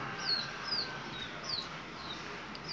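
Faint high chirps and peeps from chicks repeat now and then over a steady background hiss, distant and soft.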